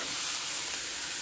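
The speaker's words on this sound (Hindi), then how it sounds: "बस इसको हल्की आँच से सौते करना है" Chopped onion and green coriander sautéing over low heat in a pan for an aloo paratha filling: a steady, dense sizzle, close and fairly loud, with no talking.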